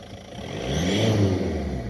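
A 2008 Volkswagen Golf 5 with a 1.9 TDI diesel engine revs up in cold weather, the engine note rising and swelling through the middle of the clip before holding steady, heard up close with no talking.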